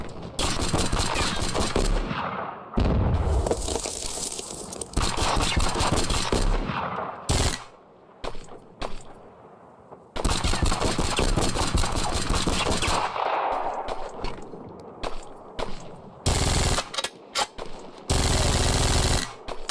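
Rapid automatic fire from a new SMG-style gun in a video game, loud sustained bursts of several seconds each separated by brief pauses and quieter stretches.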